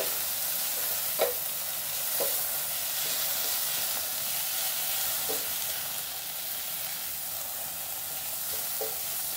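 Onions and green pepper fry in a pan for a creamy veg pasta, making a steady close sizzle and hiss throughout. Occasional soft stirring clicks and scrapes of a utensil sound against the pan.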